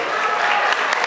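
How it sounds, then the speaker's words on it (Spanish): Audience applause at a music school event, a brief burst of loud, dense clapping from a crowd. "Un aplauso muy fuerte a Salvador Merchan"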